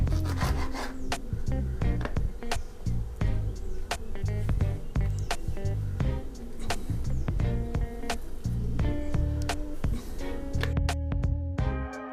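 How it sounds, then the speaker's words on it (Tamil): Ripe nendran plantain being sliced into small pieces with a knife, a steady run of close, sharp cutting taps and scraping strokes against a board, with no talk. "இந்த மாதிரி ஏத்தக்காய் பழத்தை சின்ன சின்னதாக கட் பண்ணிக்கோங்க"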